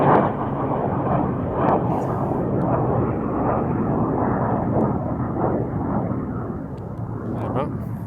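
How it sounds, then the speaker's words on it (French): A fighter jet roars past low overhead, a loud broad rushing rumble that stays strong for several seconds before easing slightly as it moves away. "C'était un avion de chasse."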